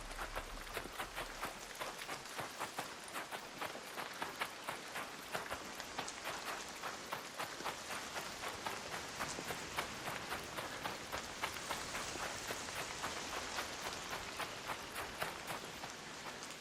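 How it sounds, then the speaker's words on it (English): Rain falls steadily in the ARC Raiders video game, a constant patter of drops whose dense ticking rhythm resembles footsteps, faint and even throughout. "Keep hearing the rain sound as footsteps."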